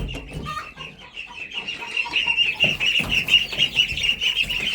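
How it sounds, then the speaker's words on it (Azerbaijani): Backyard chickens cluck and chatter continuously at close range, several birds overlapping in a busy, rising murmur. "Bir dəqiqə toyuqlar ora keçmək üçün can atırlar."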